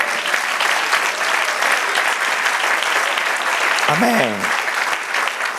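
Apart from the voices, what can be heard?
audience applause in church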